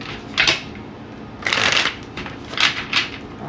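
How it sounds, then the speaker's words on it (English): A deck of tarot cards is shuffled by hand, several quick riffling bursts up close, each a short crisp flutter separated by brief pauses, with no talk. "One more shuffle for Scorpio."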